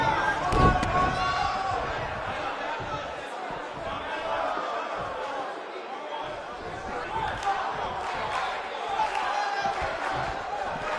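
Sold-out arena crowd in the WWE 2K19 wrestling video game roars and chatters continuously, a dense steady wash of cheering with a commentator's voice running over it.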